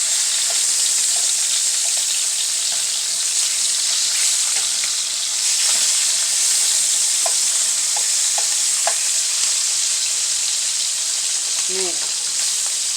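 Turkey wings sear in a hot pan with a loud, continuous hiss, broken by scattered soft pops and light clinks of a utensil.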